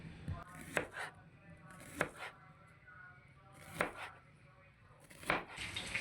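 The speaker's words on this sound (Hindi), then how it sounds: "इसी तरीके से हमने प्याज को गोल गोल काट लेना।" Knife cutting an onion into round slices for salad alongside chicken potato kababs, several sharp chops on a board spaced a second or so apart, faint and close over quiet room noise, with no talk.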